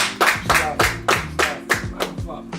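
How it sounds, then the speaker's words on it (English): Hands clap in a slow, steady rhythm, about eight distinct loud claps from one or a few people close by, with a faint voice in the background. "can you get a round of applause for Mustafa?"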